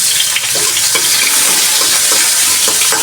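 Onion and garlic sauté in a hot pan, a loud, steady sizzle with soft stirring scrapes running throughout and no voices.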